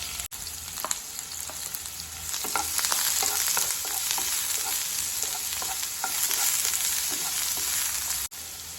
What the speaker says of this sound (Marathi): तेल गरम झालेला आहे। आता यामध्ये मी कांदा टाकून घेते।